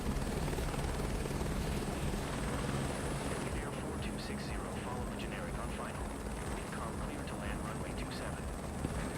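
Helicopter flying in Microsoft Flight Simulator 2024, a steady, continuous rotor and engine drone holding an even level throughout, with a person talking over it.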